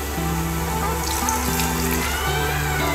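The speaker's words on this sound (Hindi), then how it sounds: "तकरीबन मैंने 1/2 पाव पानी डाला है।" Water pours from a tap into a cooking pot of aloo pulao with softened tomatoes and potatoes, a steady near splashing stream with no speech.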